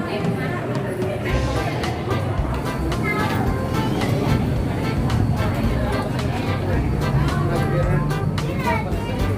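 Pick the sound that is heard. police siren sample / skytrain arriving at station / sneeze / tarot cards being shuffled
skytrain arriving at station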